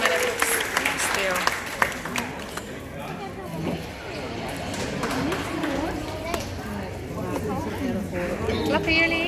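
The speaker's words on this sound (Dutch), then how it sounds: "Klappen jullie?" Clapping from a Dutch audience, a steady patter of many hands with chatter and voices mixed throughout.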